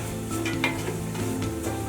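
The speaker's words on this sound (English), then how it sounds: "So I'll continue to stir fry." Carrots for a samosa filling stir-fry in a little oil, a constant close sizzle with soft scraping strokes of a utensil against the pan.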